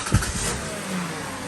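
A car engine cranks and catches during an alternator and battery charging test, a brief loud starter burst settling into a steady idle rumble.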